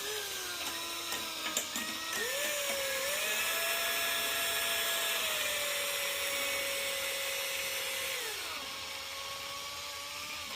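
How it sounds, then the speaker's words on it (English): A power drill runs steadily in forward to twist wire for a pinball kit, a sustained whining motor hum that rises in pitch as it spins up, holds for several seconds, then drops as it winds down. "We basically just hold on to this and then turn the drill on."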